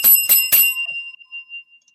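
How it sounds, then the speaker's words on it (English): A bell chime set off by pressing a button at a cafe counter, three quick bright dings in a row followed by a fading ring, close and loud. "Hit that button, the chime"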